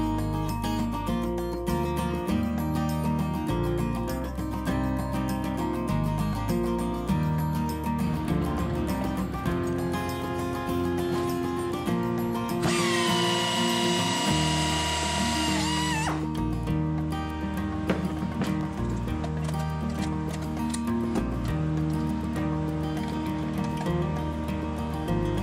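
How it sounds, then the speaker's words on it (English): A power drill match-drills a hole through a lower horn into the horn attach angle on a Vans RV-12iS stabilator using a number 30 bit, a brief high whine of about three seconds over background music. "Now I'll match drill the rear hole of the lower horn into the horn attach angle as before, after I change back to a number 30 drill bit."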